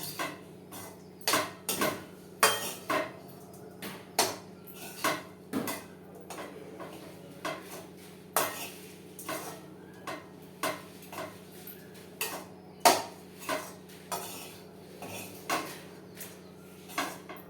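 A spoon scrapes and taps against a pan while rice is stirred with a curry leaf and coriander mix, giving irregular metallic clinks and knocks, close and fairly quiet, with no talking.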